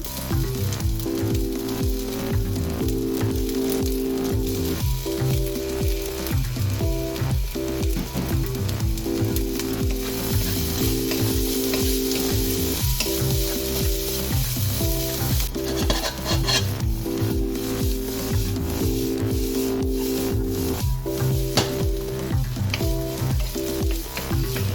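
Shrimp frying for Vietnamese shrimp fried rice (com chien tom), a loud steady sizzle with repeated rhythmic scraping and stirring of a utensil against the pan throughout, no voices.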